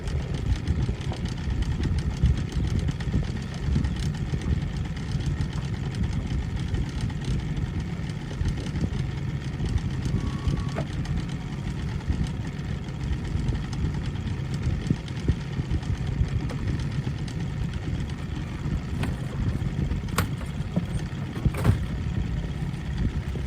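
A boat's motor drones steadily as it runs down Atwood Lake, a constant low hum with wind and water noise and no breaks throughout.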